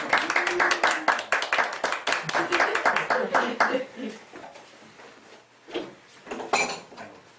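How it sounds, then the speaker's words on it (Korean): A church congregation clapping during a Sunday service, a burst of brisk, fairly close hand claps lasting a few seconds, then fading into quiet room sound with a couple of voices. "박수 한번 해주시죠"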